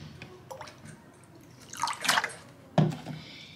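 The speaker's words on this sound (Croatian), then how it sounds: "sada ću u ovu vodu i boju dodati sirće" Vinegar poured into a mix of egg dye and boiled water, a short liquid splash and trickle with a few drips before and after, close and fairly quiet in a calm kitchen.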